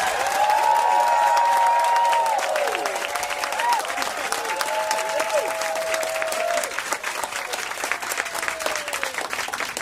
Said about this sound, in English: please clap your hands, stomp your feet, make a lot of noise, send a lot of love to the stage